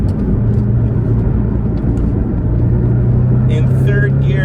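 A Porsche Boxster 718 accelerates in third gear, its engine droning loudly and climbing steadily in pitch under heavy road and wind noise, while someone talks over it near the end.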